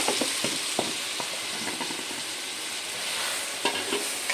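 Coarsely ground jackfruit for chakka varatti drops into a pan and is stirred over a low flame, producing an even sizzle broken by scattered spoon scrapes and taps.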